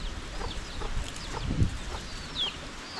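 Free-ranging backyard chickens cluck softly nearby, a few scattered short clucks and faint chirps over low outdoor background noise.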